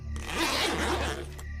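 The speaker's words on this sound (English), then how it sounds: "I heard the sound of the zipper to the tent zipping down." A tent zipper is pulled down in one long, continuous rasping stroke, close and fairly loud, ending with a brief catch.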